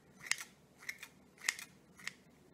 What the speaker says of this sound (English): and then just snip into the hair